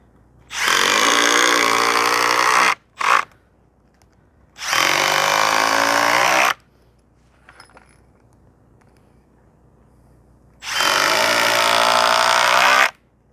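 A cordless drill driving screws into a wooden dolly axle, three long loud bursts of whirring with a brief blip between, separated by quiet pauses with faint handling clicks.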